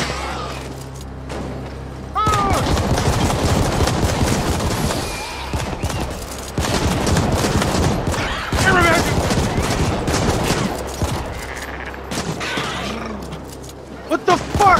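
Rapid bursts of gunfire in the co-op cyberpunk shooter video game The Ascent, loud and nearly continuous with dense crackling volleys, under excited player talk.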